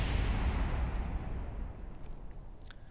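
A rocket explodes in Kerbal Space Program with the RP-1 mod, a loud broad rumbling blast at the start that decays into a fading crackle over a few seconds.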